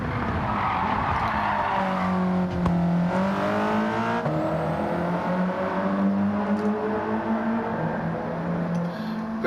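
A race car engine in Gran Turismo 7 among Japanese high-performance street machines drones and shifts pitch steadily while the tires squeal and skid, loud and close for the whole stretch.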